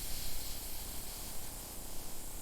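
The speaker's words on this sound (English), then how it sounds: "When the steam rises steady and strong, your water is ready." A steady, broad hiss of steam from a kettle of boiling water rushes continuously, loud and close, with no pauses or voices.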